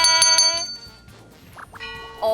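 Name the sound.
bell ringing on quiz show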